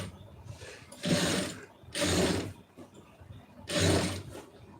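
Sewing machine stitching a seam in cloth, three loud bursts of rapid mechanical whirring about a second long each, separated by quieter pauses as the fabric is repositioned.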